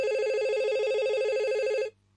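An office telephone rings with a single, loud, warbling electronic trill that holds steady for nearly two seconds and then cuts off abruptly into quiet.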